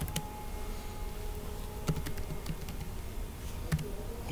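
Someone types C++ code on a computer keyboard with sparse, quiet key clicks in irregular bursts, over a low room hum and no talk.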